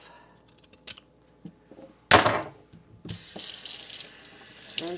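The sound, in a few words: sweet potato rinsed under running tap water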